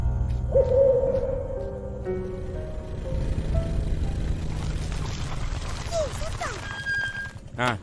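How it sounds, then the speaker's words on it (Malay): In a cartoon night scene, an owl hoots in a few clear tonal calls near the start, followed by animated character voices, rustling and sliding cartoon sound effects. "Burung hantu."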